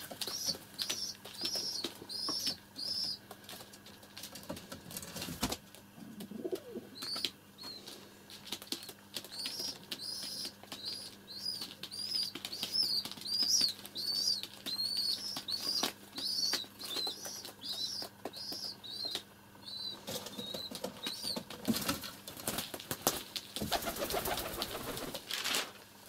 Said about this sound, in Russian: взрослые и голубята. Вот кормит как.